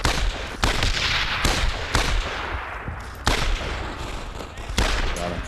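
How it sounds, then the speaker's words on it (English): Rapid bursts of gunfire crack through a World War II battlefield in Brothers in Arms: Road to Hill 30, loud repeated rifle and machine-gun shots with sharp onsets and no voices over the barrage. "Watch it, you're taking fire."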